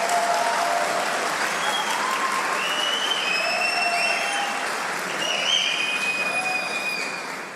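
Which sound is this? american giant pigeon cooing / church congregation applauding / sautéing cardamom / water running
church congregation applauding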